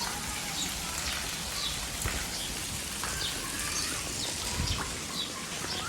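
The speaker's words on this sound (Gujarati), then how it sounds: "અત્યારમાં જો અમારો વરસાદ એવો મસ્ત પડી ગયો છે અત્યારમાં તો" Steady rain pours down, a continuous hiss with scattered drops spattering on surfaces and faint birds calling in the distance.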